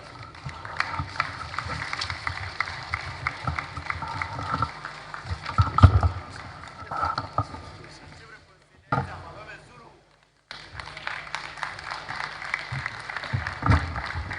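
An audience at a youth conference claps after a speech, scattered applause mixed with a speaking voice, briefly dropping out before resuming.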